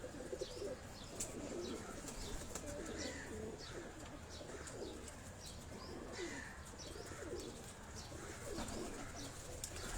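Kabuli pigeons on a Karachi rooftop coo faintly and keep up a soft, continuous chorus with light chirps, all quiet and somewhat distant under low background noise.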